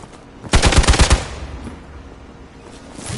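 A loud, close burst of rapid automatic gunfire in the Marvel Midnight Suns video game, about seven quick shots in under a second, followed by fading echo and low ambient rumble.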